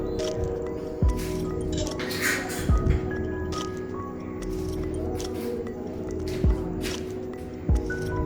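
About a kilogram of boneless chicken gets stirred into ground masala in a pan for badam garlic chicken masala: wet squishing and sizzling broken by several sharp clinks of a spoon against the metal.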